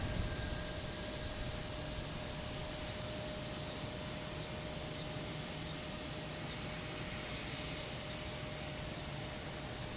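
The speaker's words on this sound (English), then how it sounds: "We got JetBlue coming in from Fort Myers, A220." A JetBlue Airbus A220 jet arriving from Fort Myers at Logan Airport, heard as a steady, moderately quiet broadband roar with a faint tonal whine, unchanging throughout and with no voices.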